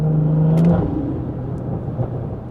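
A BMW 340i's B58 engine hums and revs briefly, then settles into a lower steady drone as it pulls away.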